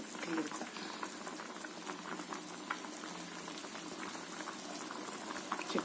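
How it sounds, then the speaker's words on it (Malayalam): Chicken for cutlets boils in a pot, giving a dense, steady bubbling and gurgling at close range, fairly quiet, with no talking over it. "ചിക്കൻ കട്ട്ലേറ്റ് ഉണ്ടാക്കാനുള്ള ചിക്കൻ വേവിക്കുന്നു."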